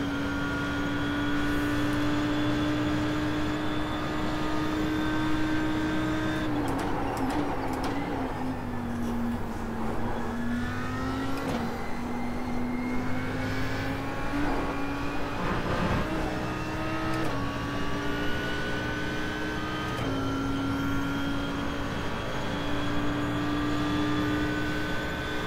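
A GT3 race car engine at Monza in the iRacing sim drones loudly and steadily from start to finish, pitch dipping and rising through gear changes and throttle modulation, with brief rasps between.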